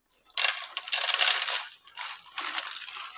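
Dried no-oil vegetable and fruit chips pour onto a plate in a crisp, rattling cascade that starts abruptly, runs for a couple of seconds, pauses briefly and then resumes as a second shorter pour, close and fairly loud.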